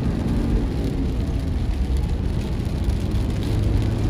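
Steady rain and road noise from a truck on Pan American Highway 40, driving slowly in wet weather; a dense, even wash of low rumble with hissing spray, continuous and fairly loud with no talk.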